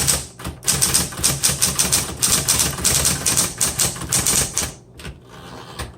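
Rapid clattering keystrokes from a 1970s Smith Corona Electra 120 electric typewriter, dense and uneven, close up, ending with a brief pause and a few final taps.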